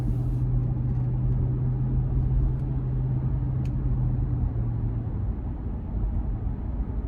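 A 2014 Lexus GX 460 Premium with its 4.6-litre engine at about 115,000 miles, heard from inside while driving: a steady, loud low rumble of engine and road noise that holds constant throughout, with no talk.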